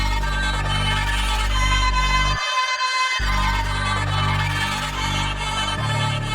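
A UK drill beat built from a chopped vocal sample, with deep sliding bass and steady rhythm, dropping out for a moment before continuing.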